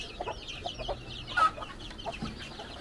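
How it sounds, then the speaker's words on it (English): A rooster in a family's yard gives a few short, soft clucks in a loose, irregular rhythm, fairly close but quiet, with no voices over it. "This is my rooster."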